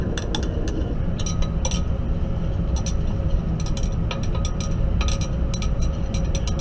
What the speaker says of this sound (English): Notice I'm stirring it while heating it because I want it to dissolve.